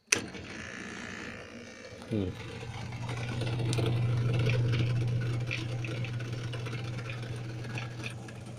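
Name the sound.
appliance running on power spin cycle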